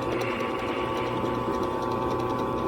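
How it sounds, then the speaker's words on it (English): A chamfer bit that is going dull machines stainless steel, a steady dense whirring grind that runs alone for the whole stretch. "Chamfer bit's getting a little dull here."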